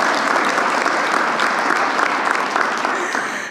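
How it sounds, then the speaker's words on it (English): An audience at a Martin Luther King Jr. highway designation ceremony in Boulder, Colorado applauds a state representative, a loud sustained roar of many clapping hands that eases slightly at the end. "you can clap for Junie, go ahead."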